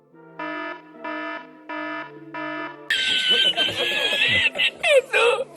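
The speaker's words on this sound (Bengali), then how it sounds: "আমার কাছে কিছু সাউন্ড এফেক্ট আছে, অ্যালার্মটা নিলাম।" A synthetic alarm sound effect from an AI-generated clip: four evenly spaced electronic beeps, then a louder burst of shrill, chattering laugh-like squeals.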